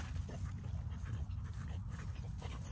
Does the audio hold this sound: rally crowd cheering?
no